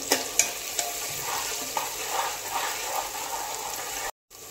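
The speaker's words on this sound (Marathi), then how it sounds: "आता इथे 1 ते 2 मिनिटं आपण छान असा टोमॅटो परतून घेऊया तेलावरती." Tomato sautéing in oil over a high flame for a Marathi chicken rassa curry, a steady close sizzle with scraping stirs and a short silent gap near the end.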